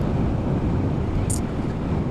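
Wind buffeting the microphone while riding a motorcycle, a steady, loud, low roaring rumble with no break and no speech.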